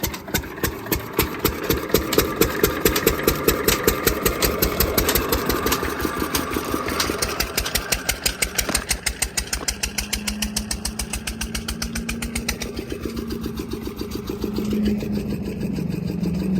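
A diesel water pump engine in a farm field, just started, chugs with a steady rapid thumping beat close by, holding an even idle throughout with no talk.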